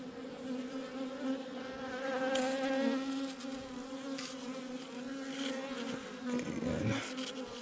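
Honey bees buzz in a steady, close, dense drone while a beehive is opened and checked, the hum swelling and easing slightly with no voices over it.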